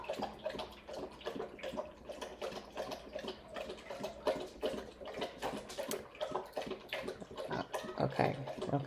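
An animal, apparently a thirsty pet, laps water nearby in a steady, busy rhythm of wet licks and splashes that continue throughout with no talk.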